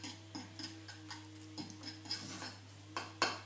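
A knife mixing tinted 3D embossing paste on a plate, giving a series of soft, irregular scraping clicks and taps close by, quiet over a constant low electrical hum, ending with a sharper clink.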